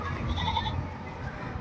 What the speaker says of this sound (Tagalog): May kambing to.